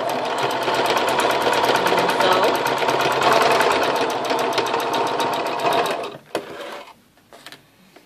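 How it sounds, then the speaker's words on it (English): A sewing machine runs a 5/8-inch seam through two layers of fabric with a loud, rapid, steady rattling stitch close by, then stops, leaving a few soft handling clicks. "we're going to sew 5/8 of a seam allowance"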